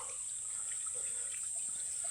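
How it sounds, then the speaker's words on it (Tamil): A small freshwater spring trickles downhill toward the sea on an Australian island, giving a faint, steady running-water wash with no other sound over it. "இது பார்த்தீங்களா, அப்படியே நல்ல தண்ணி சின்ன ஒரு ஊற்று மாதிரி வந்து அப்படியே கீழே இறங்கி போயிட்டுருக்கு."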